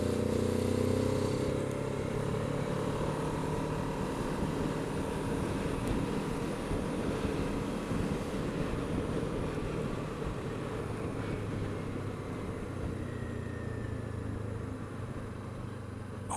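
Kawasaki Z7 Hybrid motorcycle cruising in sixth gear, giving a steady continuous engine drone mixed with heavy wind rush from start to finish, with no talk.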